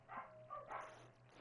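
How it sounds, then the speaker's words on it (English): A few quick dog barks, faint and somewhat distant, come in a short burst with a low hum underneath. "I apologize for the dogs barking in the background."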